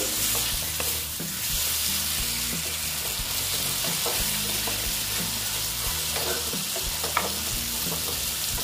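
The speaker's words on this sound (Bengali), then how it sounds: "একটু কষিয়ে নিচ্ছি" Curry being sautéed and stirred in a hot pan for a fish dish with potato and lentil dumplings, giving a steady close sizzle with scraping stir strokes throughout, no voices.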